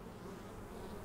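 Honeybees from farm hives swarm around cranberry vines on an Oregon cranberry farm, a steady, dense buzzing drone with no pauses and no voices.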